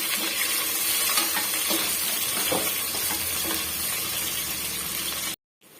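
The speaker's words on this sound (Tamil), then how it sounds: "வெங்காயம் சேர்த்துக்கலாங்க ஒரு டூ மினிட்ஸ் வந்து வதங்கி வரட்டும்" Onions for vegetable biryani sautéing in a pan, giving a steady, close sizzle with soft stirring scrapes throughout before the sound cuts off abruptly near the end.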